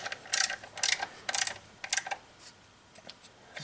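A ratchet runs down the upper intake plenum bolts on a Ford Edge 3.5L, with quick bursts of close, crisp clicking, then fainter, sparser clicks toward the end.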